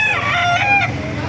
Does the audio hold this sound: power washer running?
no